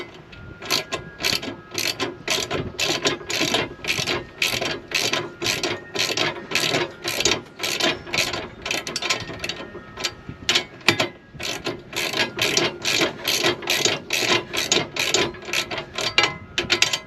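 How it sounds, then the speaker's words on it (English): A ratchet wrench tightens a nut on a hide-a-spare tire bracket, giving rapid repeated clicking strokes in a steady rhythm, close and loud with no talking. "and then we tighten the nut down."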